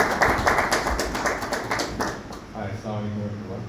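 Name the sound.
audience applause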